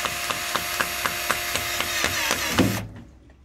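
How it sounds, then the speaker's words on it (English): A mains feeder cable being cut, a series of regular rasping strokes, close and moderately loud, ending with a final crunch as the cable gives way. "I might just trim the cable. So we'll just cut it this way."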